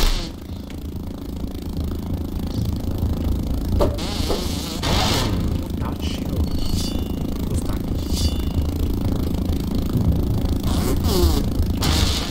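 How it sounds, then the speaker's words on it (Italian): Mosquitoes buzzing in the video game Grounded, a loud continuous insect whine with rising and falling wingbeat tones and brief louder swells as they pass close. "Quanto non le sopporto le zanzare, ragazzi"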